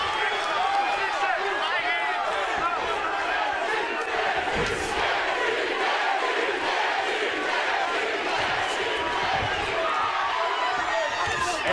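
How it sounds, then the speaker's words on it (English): Arena crowd cheering for Justin Gaethje during his MMA fight against Luis Palomino, a steady dense roar of many voices with occasional louder swells, sustained throughout with commentary talk underneath. "And they're cheering for Gaethje, as you would imagine."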